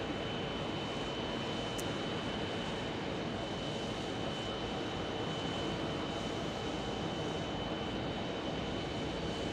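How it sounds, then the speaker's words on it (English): A Boeing 777 airliner arriving from London lands at an airport, a steady broad roar of jet engines and rushing air filling the scene at a moderate distance without letup. "There is our 777 just landing in from London town."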